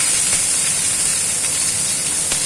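Hot oil sizzling in a pan, ready for ilish paturi, hilsa fish wrapped in pumpkin leaf, giving a steady, loud, close hiss with no talking.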